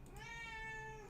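A pet cat gives a single drawn-out meow, clear and tonal, rising slightly then trailing off, fairly quiet against a low room background.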